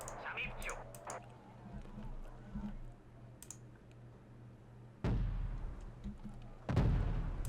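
Deep artillery blasts from the video game Wargame: Red Dragon thump in low and heavy, two strong booms landing late among keyboard typing and clicks while a player talks over the action.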